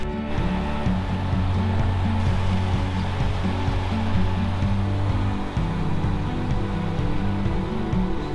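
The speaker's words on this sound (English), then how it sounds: "apparently there's this waterfall" A steady, dense roar of rushing water from a waterfall near Peddler Lake on the Dingle Peninsula, Ireland, holding constant throughout, loud and close, with no voices.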